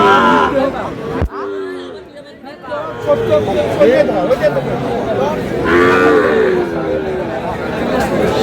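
Sahiwal bull calves at a busy cattle market in Chandpur, with low moos and lowing heard amid constant crowd chatter and bargaining voices, plus one sharp knock near the start.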